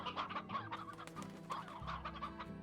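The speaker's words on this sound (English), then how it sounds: "I'm gonna put these chickens in the other side" Video-game chickens in Slime Rancher cluck in a busy, overlapping chorus of short bursts, fairly close and steady over a low background hum, with no talking.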